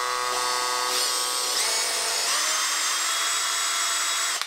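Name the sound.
Makita LXT cordless combi drill running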